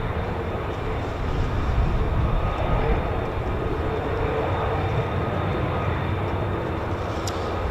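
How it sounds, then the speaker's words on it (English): Broadband roar of a US Air Force F-35A fighter jet at RAF Lakenheath, loud and steady throughout, close and continuous with a deep rumbling low end. "This is the F-35A"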